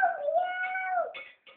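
A young child imitates a cat with a single drawn-out, close meow, then a short trailing vocal sound.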